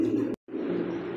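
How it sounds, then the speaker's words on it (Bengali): Blue satin pigeons in a coop give a low, continuous cooing, broken by a brief silent gap before the cooing resumes at close range. "দেখতে পাচ্ছি এখানে আরো এক পেয়ার কবুতর, এটা হচ্ছে শার্টিন কবুতর, এটা ব্লু শার্টিং"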